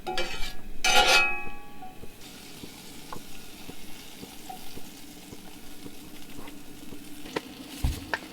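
Banana pieces frying in butter or margarine in a warm pan give a steady, soft sizzle with a louder burst of crackle near the start, then small pops and light stirring scrapes.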